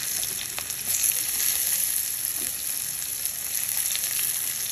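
Raw mango pieces frying with onions, mustard seeds and cumin in a pan, a steady bright hiss of hot oil with occasional pops, constant and close, no speech.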